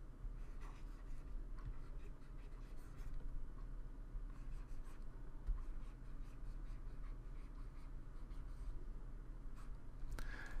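A stylus dragged across a pen tablet while drawing a signature, producing faint, soft scratching strokes over a steady low background hum, with no talking.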